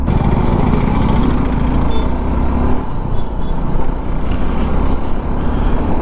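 A Suzuki V-Strom SX 250 motorcycle being ridden, its engine droning steadily with a rising and falling rev and wind rush, loud and close throughout without speech.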